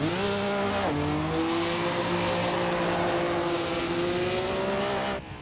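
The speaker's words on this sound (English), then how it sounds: "let's go ahead and give this thing a 0 to 60 and see what this 2000 GT with this inline 6 is all about" A Toyota 2000 GT with its naturally aspirated inline-six pulls hard from 0 to 60, a loud close rising engine note that drops briefly at a gear change before climbing steadily again.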